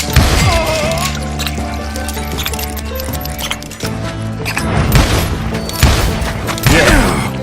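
Hired guns open fire in Call of Juarez Gunslinger, a dense, loud barrage of shots, impacts and crashes layered over a game soundtrack, with bursts intensifying toward the end.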